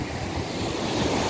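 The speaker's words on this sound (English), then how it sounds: "Look at the sound of the wave." Strong ocean surf breaking on Emajuaga Beach in Maunabo, Puerto Rico, a continuous close roar of waves mixed with wind buffeting the microphone, no talking.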